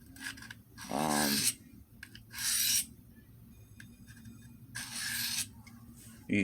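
A knife is rubbed across a DMT DuoSharp extra-coarse #220 diamond plate, 6 by 2 inches, in three separate bursts of harsh scraping with quiet gaps between them, heard up close.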